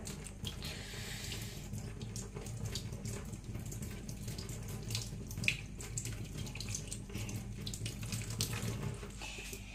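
Hands are washed under a running kitchen tap, giving a steady, faint splash of water over a sink with small irregular bursts as the hands move through the stream, and no one speaks.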